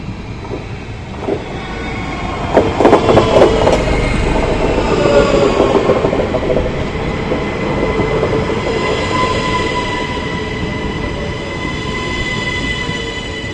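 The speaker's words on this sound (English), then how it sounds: "These trains have got a very nice sounding VF drive." A Belgian electric train with a distinctive VF traction drive passes by in Luxembourg, its rising and falling motor whine layered over steady rail rumble and wheel noise, loud and close throughout with no talking.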